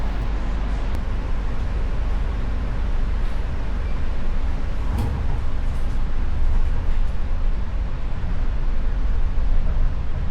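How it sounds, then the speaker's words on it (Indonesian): KA Bangunkarta passenger train pulling away from Solo Balapan station, heard as a heavy, continuous low rumble with rolling mechanical noise that stays steady and close throughout. "kereta api Bangunkarta barusan diberangkatkan dari stasiun Solo Balapan menuju stasiun akhir Pasar Senen, Jakarta."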